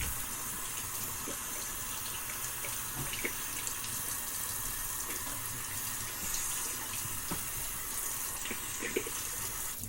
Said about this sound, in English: Trying to rinse it off the blade,